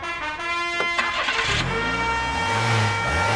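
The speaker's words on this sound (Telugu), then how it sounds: "ఇంజన్ స్టార్ట్ అయినట్టు తెలుసురా" A modified vehicle fitted with a cylinder in place of its battery cranks over and its engine catches, a stuttering start that settles into a low, rumbling idle close by.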